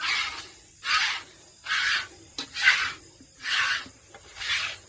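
A cow is milked by hand in the evening while the milking machine is broken. Six rhythmic, hissing squirts of milk come at a steady, even pace, close and moderately loud.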